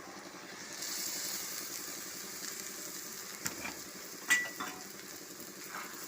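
Palak (spinach) paste frying in a pan while being stirred, a soft steady sizzle running throughout with a few brief scraping clinks toward the end; no voices.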